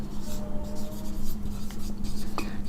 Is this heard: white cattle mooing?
no